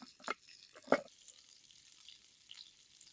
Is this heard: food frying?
yes